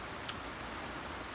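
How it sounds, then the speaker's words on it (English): Rain from Hurricane Irma in Florida falls steadily and densely, a continuous soft patter with scattered drop hits and no voices. "You can hear the rain picking up."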